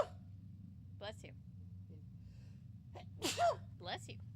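A single sudden sneeze bursts out in a quiet room, with brief voiced sounds before it and after it.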